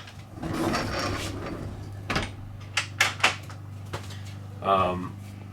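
Privacy door with a latch inside a Coachmen Mirada 35ES RV swinging shut, a few close wooden knocks and a latch click following a stretch of soft rustling, with a brief voice near the end.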